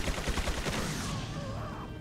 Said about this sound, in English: If I throw a flashbang, will that blind him?